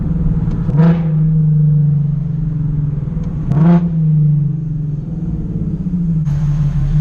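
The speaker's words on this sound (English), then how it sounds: "I love how this car sounds" A Nissan 370Z sports car engine idles with a low, steady burble, then revs sharply twice, a few seconds apart, close by.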